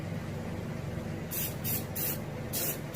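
A spray can applies paint to the fin of a striped bass fish mount, heard as several short, close hissing bursts separated by brief pauses, with no talking.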